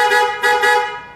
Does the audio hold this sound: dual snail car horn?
yes